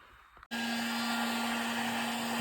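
A hair dryer switches on abruptly after a brief quiet moment and blows steadily with a loud, constant whirring hum and airy rush.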